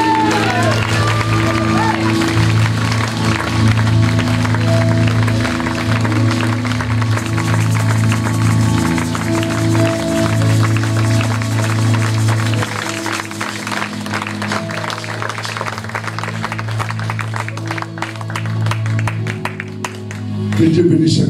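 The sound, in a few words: congregation acclamation and applause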